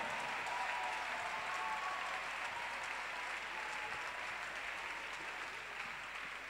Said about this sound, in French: On acclame très fort le Seigneur. Plus fort le Seigneur.